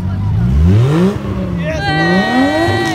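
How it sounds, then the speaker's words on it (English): Car engine revving at a car meet, loud close revs that sweep up and down, with a higher whining rev near the end, while excited voices talk over the engine. "Rev it up, lad."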